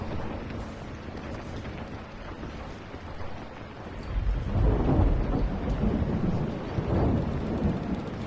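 Rain and thunder in the video game Dying Light, steady rainfall hissing under a deep rolling thunderclap that swells halfway through and rumbles on to the end.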